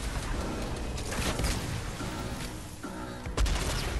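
Fortnite rocket launcher fire and explosions come as a dense burst of gunfire-like blasts, with a heavy boom near the end that is loud and close, and no talking.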